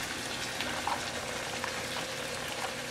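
Tomato sauce with large chunks of basil simmering in a pan for Italian pasta, a steady close bubbling and sizzling hiss with occasional small pops, continuous and alone.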